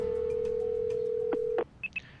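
Phone dialing in a visual novel video game: a long steady dial tone cut by two brief button beeps, then two short higher electronic tones after it stops.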